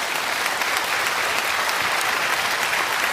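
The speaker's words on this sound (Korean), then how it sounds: "큰 박수를 부탁드리겠습니다" An audience at the KBS 119 Awards ceremony in Korea claps in sustained, even applause, dense and steady throughout with no voices standing out.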